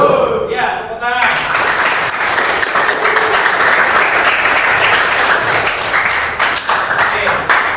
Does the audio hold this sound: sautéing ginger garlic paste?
no